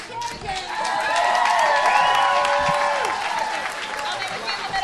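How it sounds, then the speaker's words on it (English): Show audience applauding and cheering for champions, a loud, sustained round of clapping with whoops and shouts rising through the middle, with voices mixed in. "How about a round of applause for all these champions?"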